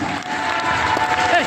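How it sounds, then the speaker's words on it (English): A crowd applauds a 10th-grade performer, with a brief burst of clapping and cheering voices mixed in, loud and dense. "Give him a huge round of applause."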